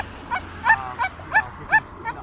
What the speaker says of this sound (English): So now he's barking again, he's whining